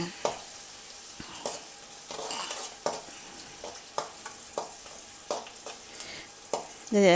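Onions and tomatoes sauté in a kadai for crab gravy, a close sizzle broken by repeated sharp spatula scrapes and taps at an uneven pace, with no voices.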